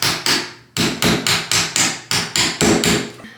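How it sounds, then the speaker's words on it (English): Hammer strikes driving nails into a bathroom wall during a budget makeover: about a dozen sharp, loud, close blows in a steady, quick rhythm, with a short pause after the first two and no talking. "basically all you're gonna do is hammer them in slowly so that they each kind of start going in"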